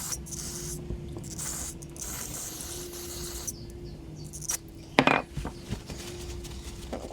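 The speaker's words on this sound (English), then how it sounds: "So just some brake cleaner here, clean off the outside." Brake cleaner is sprayed onto a part of a Craftsman lawn mower in a few short, hissing bursts near the start and middle, followed by a sharp metallic clatter and light handling noises.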